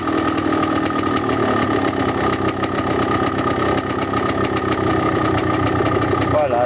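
Engine idling steadily after an adjustment of the carburettor air screw, a constant close mid-pitched idle with an even throb and no revving throughout.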